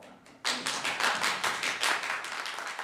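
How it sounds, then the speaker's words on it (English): An audience at a city council meeting claps in a short burst that starts suddenly and holds steady, several pairs of hands clapping close together in a dense, fairly loud patter. "Mr. Hunt, no clapping, please."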